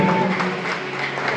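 Continuous applause from a crowd at a graduation ceremony, a dense steady patter of many hands clapping at once without a break.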